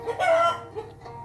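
A rooster crows once at a chicken-keeping place, a loud, close, drawn-out call that rises and then trails off, with no talking over it.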